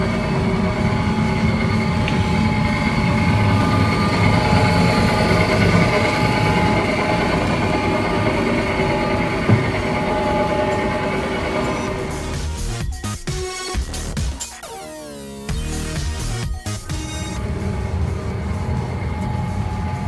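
A train rolls past close by, with loud continuous rumble and rail noise, a brief break with squealing and clattering wheels, then the roar returns.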